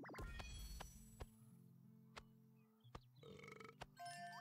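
Cartoonish burping from a baby axolotl in the video game AK-Xolotl, a few short gulping burps over light game music with chimes and clicks, fairly quiet overall.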